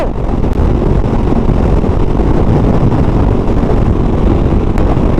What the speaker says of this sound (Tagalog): Ang lakas lang ng hangin.